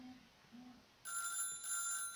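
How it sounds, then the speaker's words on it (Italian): A telephone rings in the video game Little Big Workshop, a bright electronic ringing tone that starts midway and continues in two bursts, fairly clear over a quiet background. "squilla il telefono"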